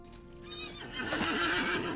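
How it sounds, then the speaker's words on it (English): A summoned horse in The Lord of the Rings Online gives a rising, tonal neigh and whinny, followed by soft hoofbeats. The horse is close and moderately loud, with no talk over it. "Go back on our horse."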